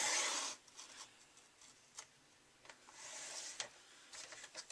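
A paper trimmer blade slicing through cardstock: a soft rasping swish at the start, then quiet sliding and rubbing strokes with brief ticks, faint and close, with no voices.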